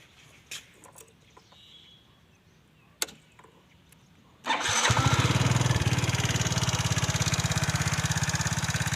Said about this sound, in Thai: สตาร์ทติดง่ายครับ